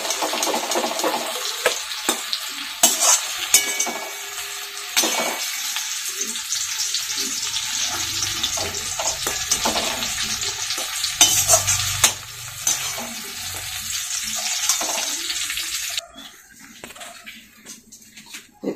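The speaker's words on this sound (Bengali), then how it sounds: "পেঁয়াজ ভাজার তেলের মধ্যে জিরে ফোড়ন দিলাম" Cumin seeds sizzling in hot oil left over from frying onions, with whole garam masala of cardamom, cloves and cinnamon, a steady close crackle broken by stirring scrapes and clinks of a spoon on the pan before it drops off near the end.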